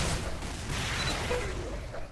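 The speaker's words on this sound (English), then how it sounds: "Detonating the Devastator midair to gain himself another frag" A Devastator rocket detonating in midair during a Xonotic duel gives a loud, dense blast of explosive gunfire noise that fills the whole short moment without a break.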